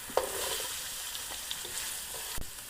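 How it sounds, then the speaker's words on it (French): Onions sizzle and crackle in a frying pan with garlic and radish added for a vegan burger. A steady close hiss runs throughout, broken by a few soft stirring clicks and scrapes. "une fois que nos oignons commencent à bien cuire, on peut rajouter notre ail"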